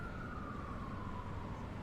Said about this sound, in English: You hear the police siren.